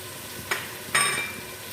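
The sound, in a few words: whole spices frying in oil with chicken masala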